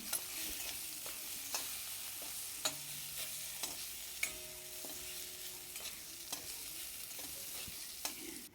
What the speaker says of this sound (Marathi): हे परतून झाल्याच्या नंतर आपले बीन्स टाकून घेतलेले आहेत